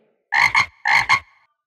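A frog croaks nearby and loudly, two quick paired croaks separated by a short pause, with silence around them.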